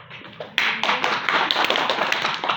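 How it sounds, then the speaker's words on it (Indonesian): A micro-teaching class of students breaks into applause after a presentation, a burst of scattered hand claps that starts abruptly and stays fairly loud and steady. "beri tepuk tangan dulu"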